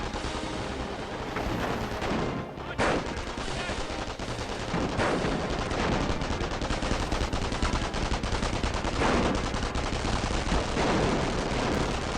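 Dense gunfire from a Company of Heroes mobile battle: rapid machine-gun bursts and rifle shots crackle continuously at steady loudness, with occasional heavier booms like artillery mixed into the fight.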